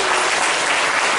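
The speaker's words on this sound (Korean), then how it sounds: "큰 박수 보냈습니다." A church congregation claps in a loud, dense burst of applause at an anniversary worship service, sustained steadily and evenly throughout with no voices audible above it.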